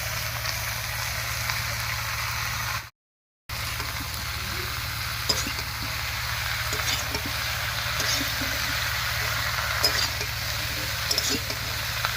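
Chopped winter vegetables tipped into deeply browned onions in a pan for a dried-fish curry, giving a steady broad sizzle with faint stirring clinks, continuous and close, briefly cut by a short gap of silence.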